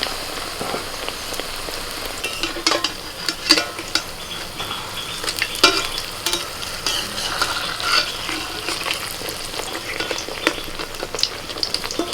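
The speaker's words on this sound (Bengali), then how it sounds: "এবার এক একটা করে বেগুনি ভেজে নেবো" Beguni, battered eggplant slices, deep frying in hot oil, a close, lively crackling sizzle with irregular sharp pops and spatters throughout.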